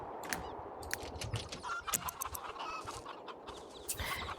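Chickens cluck and chatter in a Sims 3 farm game, several birds giving quiet, overlapping clucks and sharp calls over a soft, busy background.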